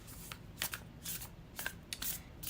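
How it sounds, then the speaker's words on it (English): A tarot card deck is shuffled close up in quick riffling bursts, several soft papery flutters and snaps in an uneven rhythm, quiet and alone without talk. "let's shuffle with intention"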